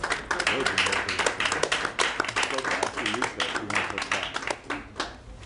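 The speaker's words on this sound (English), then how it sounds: "Round of applause." A crowd claps steadily for several seconds, dense and fairly close, with voices murmuring beneath before it tapers off.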